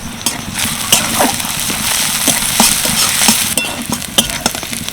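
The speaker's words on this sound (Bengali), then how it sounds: "তেলের মধ্যে দিয়ে দিচ্ছি কিছুটা রসুন কুচি দিয়ে দিচ্ছি কিছুটা পেঁয়াজ কুচি আর লঙ্কা কুচি" Chopped garlic, onion and chili frying in oil in a wok for soybean momo filling, a loud close sizzle with repeated metallic clinks and scrapes of a spatula against the pan in an irregular rhythm.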